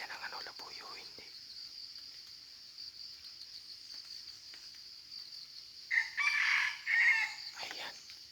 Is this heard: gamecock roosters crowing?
yes